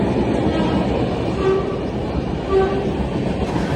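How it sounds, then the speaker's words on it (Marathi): Train at an Indian railway station platform, a steady broad rumble of rail traffic with faint horn-like tones, continuous and moderately loud, with no talking. "पोहोचलो आता आपण स्टेशनला. ट्रेन लेट आहे."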